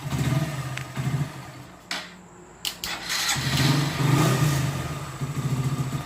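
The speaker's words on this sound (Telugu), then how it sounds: "ఒకసారి అయితే మళ్ళీ బండి అయితే స్టార్ట్ చేసి సౌండ్ అయితే వినండి ఫ్రెండ్స్." A Hero Glamour BS4 motorcycle with a freshly fitted engine runs, cuts out briefly, then restarts and settles into a steady, close, thumping idle.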